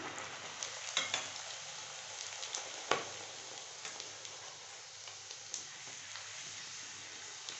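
Puris frying in hot oil for a leftover-vegetable breakfast dish, giving a steady, moderately loud sizzle with scattered pops and crackles, no talking.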